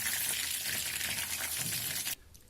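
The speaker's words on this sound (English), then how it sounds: "Fry the rest." Chicken pieces deep fry in hot oil for chili chicken, giving a steady, bright sizzle and crackle close by that cuts off abruptly near the end.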